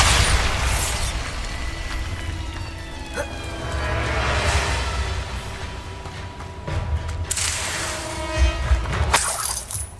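Bombarda blasting spells in the video game Hogwarts Legacy, with loud bursts and crackling debris hits at several points, set against a steady bed of game ambience.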